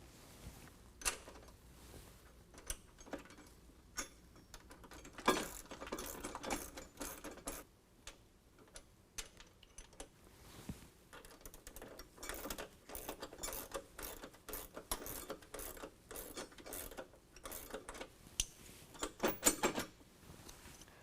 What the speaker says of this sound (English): 10mm wrench on this side and a ratcheting wrench on this side, just to get them tighter